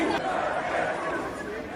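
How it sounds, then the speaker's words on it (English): Outside, a massive crowd of supporters murmurs and chatters, a dense, fairly faint wash of overlapping voices with no single speaker standing out. "Massive crowd waiting outside to support him."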